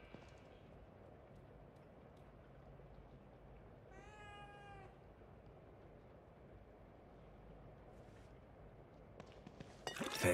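A cat in the video game The Evil Within 2 lets out a single clear meow midway, over a low, steady ambient background.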